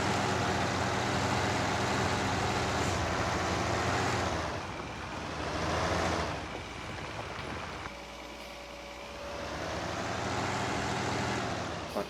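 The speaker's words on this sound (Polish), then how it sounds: "strasznie głośny ciągnik" A loud, steady tractor engine drone in Farming Simulator 19 with deep harmonic rumble, briefly easing and rising again, running continuously with no talk.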